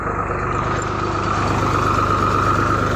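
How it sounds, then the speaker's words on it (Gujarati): A tractor engine running in a castor field, a steady close chugging throb with rapid regular pulsing, continuous and fairly loud through the short stretch. "આજે અમે ટ્રેક્ટર રાખવાનું ચાલુ કરી નાખ્યું છે એરંડાની અંદર"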